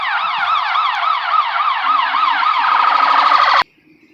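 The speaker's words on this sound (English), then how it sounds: "Ambulance." A loud wailing ambulance siren sweeps up and down in rapid cycles, holding steady close by before cutting off abruptly near the end.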